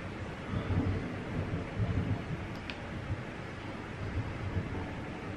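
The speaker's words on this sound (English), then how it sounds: "It's really storming outside." Outdoor thunderstorm with a low rumbling roll of distant thunder over a steady wash of rain and wind, moderately quiet, with no speech.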